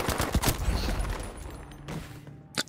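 Rifle fire in the Battlefield V open beta: several sharp shots crack in quick succession at the start, followed by quieter scattered reports and one more loud close shot near the end.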